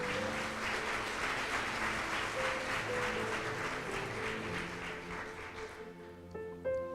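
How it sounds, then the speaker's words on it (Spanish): A church congregation applauds together in a steady, dense wash of clapping that holds for several seconds, with sustained music tones underneath, and the applause thins out near the end. "Dele un aplauso a Él entonces."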